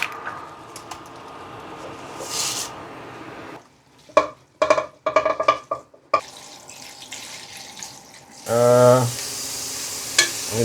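Onions frying in a pan for yakisoba, a steady sizzle broken by quiet gaps with clattering stirring and scraping, then a louder burst of running water near the end.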